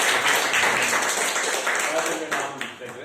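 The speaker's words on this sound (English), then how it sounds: "we'll give him a round of applause for that" A crowd claps for a participant at the SICASA Speakers Forum, with loud, dense applause that fills the room and then begins to taper off toward the end.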